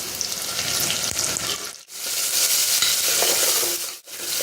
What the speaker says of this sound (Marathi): आता यात मी एक बारीक चिरलेला टोमॅटो घालते.